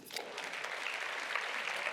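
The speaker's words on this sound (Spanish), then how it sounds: "Date un aplauso." A burst of applause from a crowd, steady clapping that swells slightly and continues throughout.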